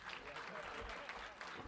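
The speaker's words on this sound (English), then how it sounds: "Maxine Waters, also founder. Give her a round of applause." Faint, distant applause from a press conference crowd at a housing opening, a low continuous patter mixed with talking.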